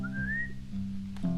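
A person gives a short rising whistle to get someone's attention, a single thin tone lasting under a second, over a low steady background hum.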